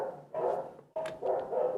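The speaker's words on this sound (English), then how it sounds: "You can hear my dogs in the background." Dogs bark in the background, sounding as two bursts of barking separated by a short gap, moderately loud and clear, with no speech over them.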